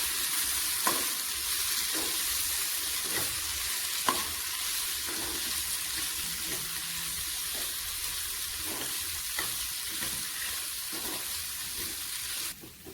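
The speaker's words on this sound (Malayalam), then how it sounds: "ഗരം മസാല, ഉപ്പ് ഇത്രയും ചേർത്ത് ഇളക്കി വഴറ്റണം." Vegetables for a thoran sautéed with garam masala and salt, a continuous soft sizzle broken by regular light taps and scrapes of a spoon stirring in the pan, ending abruptly.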